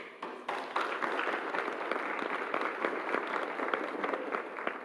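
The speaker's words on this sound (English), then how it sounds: "So I really, really want to applaud." Scattered clapping from a group at an event session, individual claps standing out as distinct sharp hits in a thin, quiet, uneven round.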